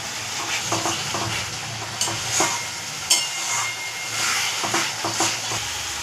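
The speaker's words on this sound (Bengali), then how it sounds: "এই মশলাটা আমার অনেকক্ষণ কষাতে হবে, যেহেতু পেঁয়াজ বাটা আছে ভালো করে কষাতে হবে" Onion-paste masala for egg curry sautéing in a pan, a steady close sizzle with repeated scraping stirs of the spoon, no voices.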